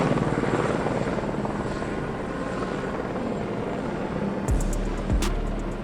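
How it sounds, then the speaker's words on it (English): An AS-350B3 Ecureuil helicopter flies overhead with a steady, loud rotor and turbine roar, broadband and continuous, with a couple of brief clicks near the end and no voices. "An aerial journey with the AS-350B3 Equurial helicopter."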